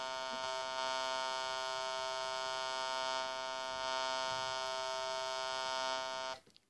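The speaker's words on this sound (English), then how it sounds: "the drive knob will alter the quality of our sound wave by distorting it" A Korg DSN-12 synthesizer holds one steady, buzzy tone distorted by its drive control, rich in harmonics and sounding without a break for about six seconds before cutting off abruptly, with no talk.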